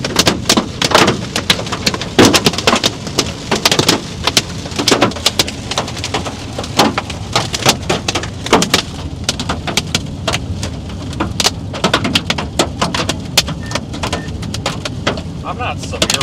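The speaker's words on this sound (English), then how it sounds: "It's just dumping pea-size hail" Pea-size hail pelting the thin sheet-metal body of a car during a spring storm, a dense, loud, continuous rattle of sharp irregular impacts heard from inside, with occasional heavier hits.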